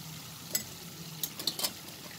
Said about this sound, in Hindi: पेस्ट बना करके तैयार करा था उसको अच्छे से हम भून लेंगे